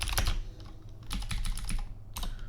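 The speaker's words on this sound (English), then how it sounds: "my typing is very bad today" Rapid typing on a computer keyboard, with bursts of clicky keystrokes and brief pauses, close up and steady with no talking.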